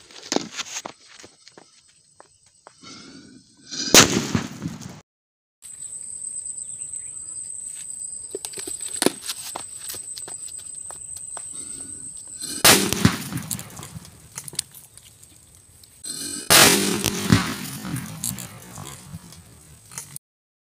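A Diwali atom bomb firecracker goes off under a tin can outdoors, giving a sharp loud blast with rattling debris, followed by quieter ambient noise and a later second burst.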